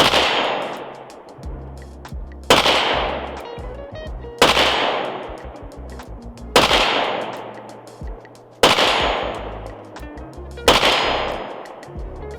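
A PSA Rock 5.7 pistol fires six loud, sharp gunshots outdoors, evenly spaced about two seconds apart, each with a decaying echo.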